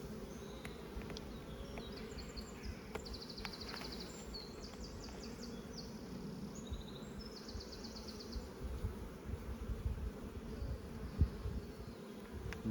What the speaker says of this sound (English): Lovely bees, aren't they?